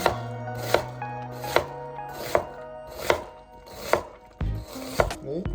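A knife finely chops an onion steadily on a board, about seven even strikes roughly a second apart, with soft music playing underneath.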